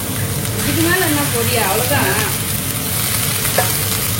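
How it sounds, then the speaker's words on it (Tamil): Chopped liver sizzles steadily in a pan inside a van, with loud, constant frying crackle and stirring scrapes. Muffled voices drift in underneath. "கொஞ்சமா ஈரல். ஆமா, ஈரல் ஃப்ரை."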